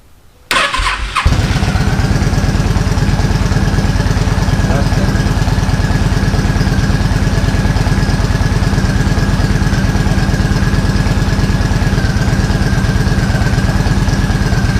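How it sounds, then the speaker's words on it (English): A car engine cranks briefly and catches, then settles into a steady, loud idle with a constant low rumble that continues to the end. "Start engine."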